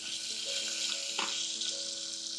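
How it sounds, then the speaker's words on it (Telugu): Green chilli and curry leaves sizzle steadily in hot oil as a tempering for veg khichdi, a continuous close frying hiss with a brief louder crackle burst midway and no talk. "ఓకే, ఇదే తాలింపు."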